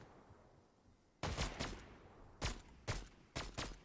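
Bursts of gunfire ring out in the Fortnite video game, starting with a quick double shot and followed by several more evenly spaced, fairly close sharp cracks.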